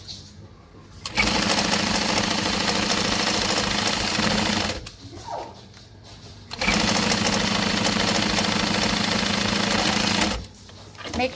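Close and loud, a sewing machine runs a bag seam with a 3/8-inch seam allowance and 3.5 stitch length in two long, steady stitching runs separated by a brief stop, with no speech.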